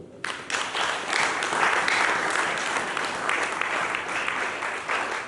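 A church congregation applauds during a sermon: dense, steady clapping from many hands fills the room, swelling and holding at a strong level throughout without spoken words.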